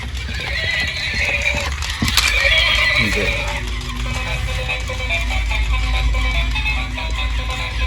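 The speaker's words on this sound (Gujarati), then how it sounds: "લાઇટ મ્યુઝિક હંગાત ઘોડો છે બરાબર" A toy horse whinnies repeatedly over bright electronic music, with a short burst near the two-second mark; the sound is steady and close.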